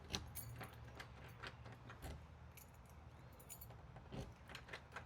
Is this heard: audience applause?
no